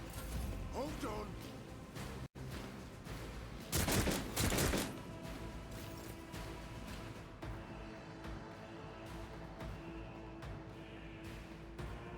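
Heavy bolter gunfire in the Warhammer 40,000 game Rogue Trader, a loud burst of rapid shots around the four-second mark standing out over a steady bed of game ambience and mechanical clatter, with someone talking throughout.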